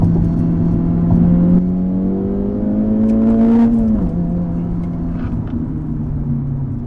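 An Acura Integra Type S front-wheel-drive car driven hard toward a set of turns, its engine revving up steadily in a loud, close climbing drone, then dropping pitch after a shift and settling into a lower steady hum.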